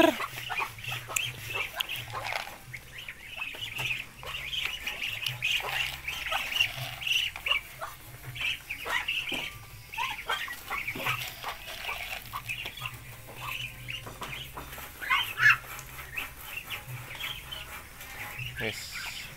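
Hens on a poultry farm cluck softly and intermittently as they near laying, faint scattered calls over a quiet low hum, with occasional talk in the background.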